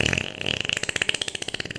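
A cartoonish fart sound effect in an audio drama, a rapid series of rhythmic, pulsing bursts repeating steadily and fairly loud, with no talking over it.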